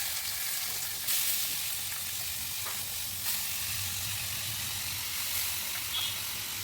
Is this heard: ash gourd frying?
yes